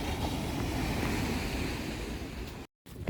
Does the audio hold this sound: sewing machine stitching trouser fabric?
no